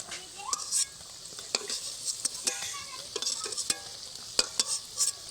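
Lentil fritters deep-frying in hot oil, a continuous bright sizzle broken by scattered clinks and scrapes of a utensil stirring and lifting them from the pan, close and fairly loud, with no talking.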